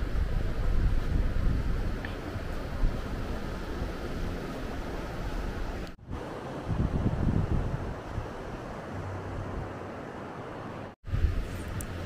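Waves wash ashore at Mandrem beach in North Goa, a continuous broad roar of surf mixed with wind buffeting the microphone, with two brief cuts in the sound.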